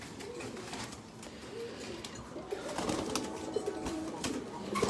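Pigeons cooing close by, soft low throaty coos repeating over a faint background of scattered taps and rustles.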